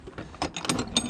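A wrench turning a spark plug in a Ford 4.6L, 5.4L or 6.8L engine with blown-out plugs: a run of close, sharp metallic ratchet clicks in short uneven bursts.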